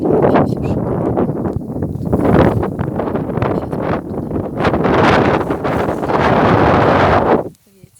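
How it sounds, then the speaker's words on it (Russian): Strong wind buffets the microphone on a grassy mountainside above a river gorge in the Zhiguli Mountains on the Samara Bend, roaring in steady gusts for about seven seconds before dropping away abruptly near the end. "Ветер."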